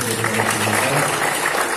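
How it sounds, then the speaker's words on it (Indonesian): A school anti-drug event audience claps in a dense, continuous burst, steady and loud throughout the short moment. "Terima kasih tepuk tangan untuk anak"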